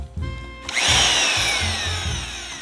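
A power drill whines loudly and continuously, a steady high-pitched grind as the bit bites in, with low thumping knocks underneath.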